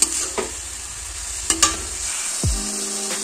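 A marinated burger mixture with spices sautés in a pan, a steady close sizzle broken by a few sharp knocks and scrapes of a stirring utensil, with no talk.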